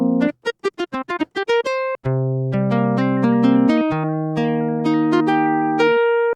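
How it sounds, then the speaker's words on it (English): Pigments 6 software synth notes with randomized warp, first a rapid run of short plucked tones, then longer sustained tones whose pitch and timbre shift from note to note. "You definitely hear the warp moving around a little bit."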